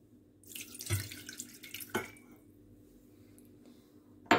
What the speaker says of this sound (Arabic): غادي نديروا عليها الماء